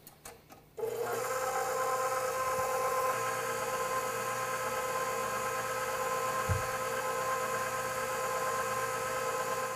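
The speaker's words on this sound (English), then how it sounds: "I'm going to beat this on low speed until it thickens up and turns opaque." An electric mixer runs steadily on low speed beating egg whites for marshmallow frosting, a constant close whir after a few brief knocks at the start.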